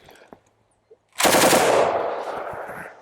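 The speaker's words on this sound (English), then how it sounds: "20-inch barrel is provided by our Colt light machine gun here" A Colt light machine gun with a 20-inch barrel fires a loud, sustained automatic burst of M193 rounds at a Level IV armor plate, a rapid roar lasting about two seconds after a quiet start.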